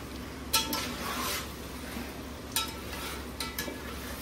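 Chicken pieces frying in a pan for biryani give a soft, steady sizzle under several sharp clinks and scrapes of a utensil against the pan, heard up close.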